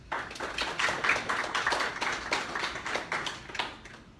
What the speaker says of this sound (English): Give Crystal a round of applause, please.